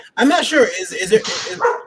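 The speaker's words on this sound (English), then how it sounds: "that was my dog." A dog barks a few times at close range, short yelping barks broken by brief pauses, while a person speaks over them.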